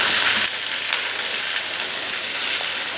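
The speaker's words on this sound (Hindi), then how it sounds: "अब हम इसमें शिमला मिर्च ऐड करेंगे, प्याज और शिमला मिर्च ऐड करेंगे" Chopped onions and bell peppers sauté in a hot pan, giving a bright, steady sizzle that starts a little louder and then settles into an even hiss, close by and without speech.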